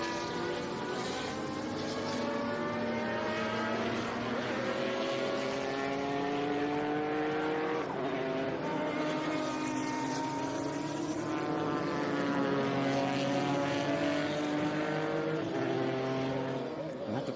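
Vintage race cars at the Monterey Reunion at Laguna Seca roar past in overlapping waves, engine notes rising and falling steadily with a continuous loud drone throughout.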